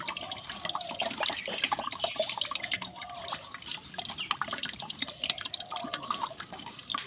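Liquid is poured into a container in a chilli garden until it nearly overflows, giving a steady splashing, trickling flow with bubbling drips throughout, close by.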